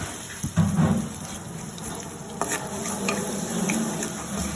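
Cooking oil sizzles and crackles in a pan, with a couple of louder spatters and stirring scrapes near the start, then a steady low frying hiss.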